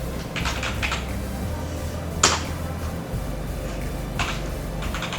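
Text is typed on a computer keyboard in quick bursts of light key clicks, with one sharper tap in the middle, over a steady low hum of room noise.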